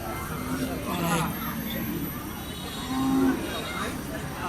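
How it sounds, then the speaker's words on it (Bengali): Cattle including bulls, cows and oxen at a crowded Eid livestock market, with low moos rising now and then above a constant background of crowd babble and people talking. "প্রচুর পরিমাণ গরু এসেছে এই হাটে"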